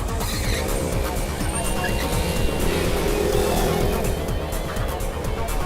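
A speeding car in a Hindi action chase, with a steady, loud engine roar and road noise running throughout, a faint tire squeal and voices mixed in.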